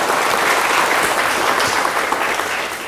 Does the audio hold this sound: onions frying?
no